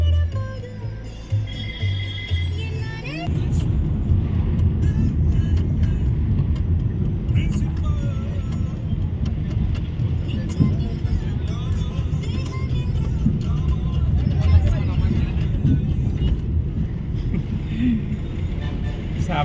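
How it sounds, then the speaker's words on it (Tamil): Steady road traffic from many vehicles near Sabarimala, a continuous low rumble of engines and passing cars with occasional horn-like tones, close and dense. "அவ்வளோ வண்டி இருக்கு."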